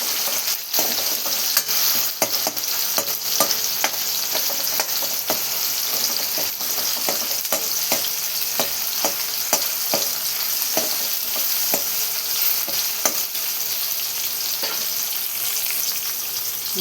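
Tomatoes and onion masala stir-frying for a bitter gourd dish, with a dense continuous sizzle and frequent rhythmic scrapes of a spatula against the pan all the way through.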